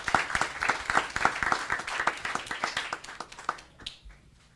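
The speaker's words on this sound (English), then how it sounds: "how about a big round of applause for everybody" Audience applause at a school board meeting honoring Title I educators and staff, a dense round of many hands clapping that rises quickly, holds steady and tapers off over several seconds.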